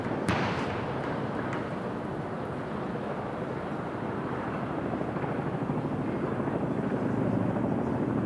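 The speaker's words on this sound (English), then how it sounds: "There's a really deep downdraft and rumble as they go over here" A deep, continuous rotor rumble and roar of military Puma and Chinook helicopters passing overhead in a flypast over Buckingham Palace, steady and loud throughout with a heavy low-end drone.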